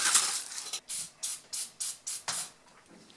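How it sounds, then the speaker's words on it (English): An aerosol can of brake cleaner sprays into an RC car shock in a series of short, sharp hissing bursts, about six in a row, close and fairly soft. "I'm going to go ahead and spray brake clean into this"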